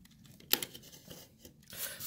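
Scissors cut paper along drawn lines in a few short, sharp snips and rustles, close and soft, with no voices.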